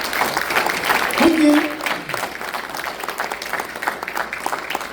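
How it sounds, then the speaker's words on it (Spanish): An audience in a church sermon setting applauds with dense, steady clapping through the whole stretch, with a voice speaking briefly over it. "Aplauso para los estudios"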